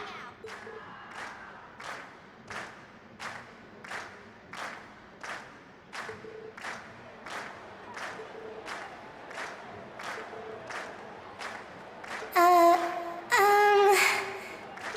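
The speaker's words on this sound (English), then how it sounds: "Ladies and gents, you've been a wonderful crowd. And we've heard your cheers loud and clear." Crowd in the video game The Legend of Heroes: Trails of Cold Steel giving rhythmic cheers and claps after a stage performance, with steady repeated bursts roughly every second and louder swelling cheers near the end.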